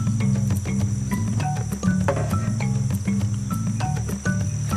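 Jungle crickets chirping in the Gabon rainforest of the Babongo people, a dense, continuous trilling with a steady high whine and scattered clicks, fairly close and loud.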